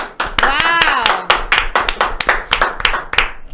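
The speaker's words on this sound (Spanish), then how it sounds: "Gracias por el aplauso" Audience clapping during a church service, a burst of hand claps mixed with a sustained vocal whoop and then an irregular run of individual claps fading out, fairly close and lively.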